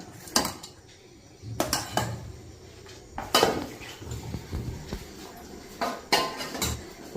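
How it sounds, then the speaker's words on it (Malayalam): A metal spoon clinks and scrapes against a pot while cooked ragi is stirred off the heat to cool, giving sparse, close knocks and rattles at irregular intervals. "ഞാൻ ഇളക്കിക്കൊണ്ടിരിക്കണം പെട്ടെന്ന് ചൂടാറാൻ വേണ്ടിയിട്ട്"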